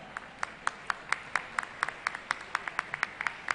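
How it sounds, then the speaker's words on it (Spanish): Scattered, fairly sparse clapping from an audience at a school awards ceremony for a technology fair, steady separate claps at a moderate distance, faint and thin rather than a full crowd. "El aplauso para la Escuela Técnica número 4"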